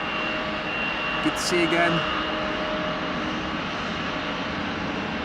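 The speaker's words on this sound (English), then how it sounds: "Embraer 175 to Wrocław." Embraer 175 jet departing Amsterdam Schiphol Airport, a steady moderate engine roar running throughout, with a brief spoken greeting over it near the start.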